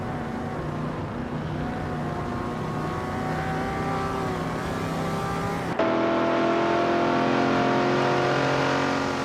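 Several racing cars in a video game race hold steady, sustained engine tones with clear harmonics, loud and close, with a sudden shift in pitch partway through as the camera or car changes. No talking.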